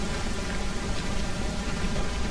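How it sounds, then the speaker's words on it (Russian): Steady rain falls throughout in the video game Start Over, set at a bay of sunken ships: a dense, even hiss of drops with no talk over it. "Еще и дождик начался."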